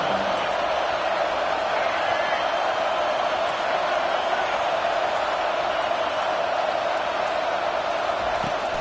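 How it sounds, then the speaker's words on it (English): A stadium crowd in the Madden 25 football video game roars in a steady, sustained wash of cheering with no pauses. "This crowd knows when to bring it."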